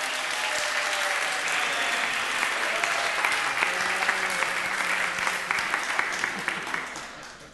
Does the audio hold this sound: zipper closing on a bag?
no